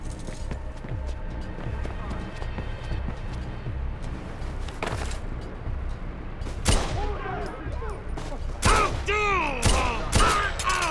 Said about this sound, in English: Taking some fire.